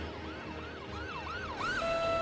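An ambulance siren from the Cities: Skylines city-building game wails in repeated rising-and-falling sweeps, then shifts to a higher steady tone near the end, loud against a constant traffic hum with no talking.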